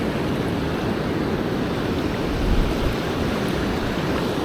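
Steady wind roars across the microphone at a river dam on the Fox River, a constant broadband rush with slight gusting and no pauses.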